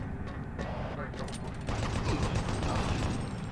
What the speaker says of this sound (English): I like to have my chain gun ready for that